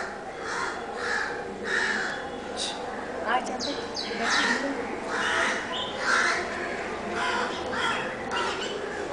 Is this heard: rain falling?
no